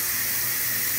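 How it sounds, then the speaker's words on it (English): Steam hisses steadily out of an Instant Pot's pressure release valve after a seafood boil, a loud continuous rushing spray with no breaks and no voices. "I'm about to release the steam"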